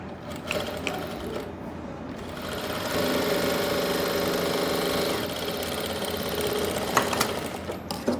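A sewing machine runs steadily, stitching a pocket along a marked line on palazzo pants, its motor whirring with a mechanical rattle that grows louder and steadier after the first few seconds.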